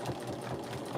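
A sewing machine back-stitches through quilt binding in a short, quiet burst of rapid mechanical whirring.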